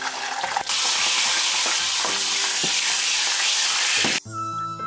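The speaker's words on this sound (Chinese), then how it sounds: "我们先开始煎鱼" Yellow croaker pan-frying in hot oil, a loud, dense, continuous sizzle that starts abruptly and cuts off sharply near the end, with a few scraping clinks at the start.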